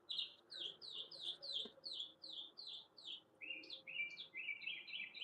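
Small birds chirp outside in a garden, repeating quick bright notes in a steady series and then switching to a faster trill, moderately near, with no talking over them.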